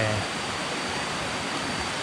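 Steady rushing water from a mountain stream outside Chiang Mai, Thailand, a constant broadband hiss without pauses, close and fairly loud.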